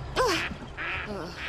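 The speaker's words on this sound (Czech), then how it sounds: "to je jenom kachní mlád" Ducklings give two short, nasal quacks about a second apart, fairly close, against quiet background noise.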